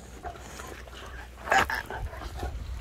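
A male dog vocalizes briefly while eating, with a short whimper or whine in the middle of a quiet indoor scene and faint rustling around it.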